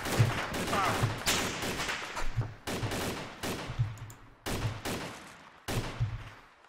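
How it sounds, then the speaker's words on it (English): A police drug-raid shootout in a roleplay video game brings repeated volleys of gunfire, several separate bursts of rapid shots, with faint voices underneath. "They fired!"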